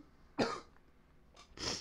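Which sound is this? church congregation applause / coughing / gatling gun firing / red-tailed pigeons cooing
coughing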